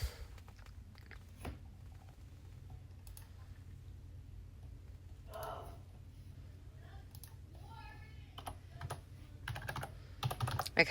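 Someone types on a computer keyboard in short bursts of quick clicking keystrokes, close and soft over a low background hum, with a person talking in between.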